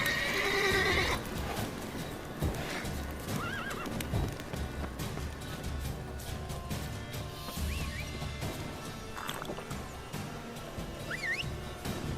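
A horse in The Witcher 3 video game neighs and whinnies several times over steady clip-clopping hooves, with game music and ambience running underneath throughout.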